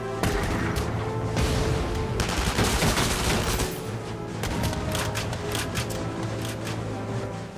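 Interception gunfire in Valkyria Chronicles 4: heavy, rapid bursts of automatic fire and booming shots, loud and continuous, densest in the first half before easing into a steadier rattle.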